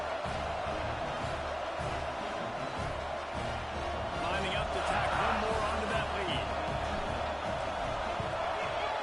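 A stadium crowd in the College Football 26 video game, at a South Carolina versus Mississippi State matchup, roars steadily as a dense wash of cheering under a commentator's voice.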